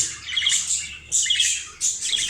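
A 10-day-old budgerigar chick squawks loudly in three harsh, raspy bursts, each a rapid string of shrill begging calls close up, with short pauses between.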